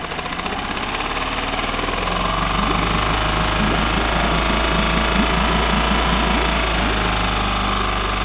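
A small kicker outboard motor on a boat runs steadily at close range, a loud continuous engine drone with a fast knocking pulse that rises slightly in pitch early on, with no talking.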